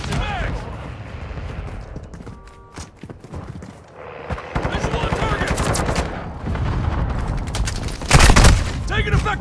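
Rapid automatic gunfire and heavy shots from a Call of Duty MW2 battle royale match, bursts building and swelling into a loud, dense volley near the end, with brief combat shouts in between.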